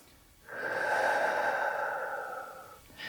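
One long, steady breath out, close and clear, during a vinyasa yoga flow, followed by the start of a short intake of air at the end, with no talking.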